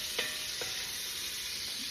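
Sausage frying in olive oil for a meat bolognese, a steady bright sizzle close up with two small taps or spatters early on.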